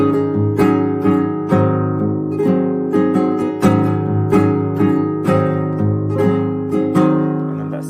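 Flamenco guitar plays fast rasgueado strumming, close and loud, in sharp rhythmic bursts of ringing chords with no talking.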